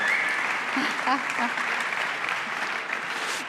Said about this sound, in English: Thank you a round of applause for him, please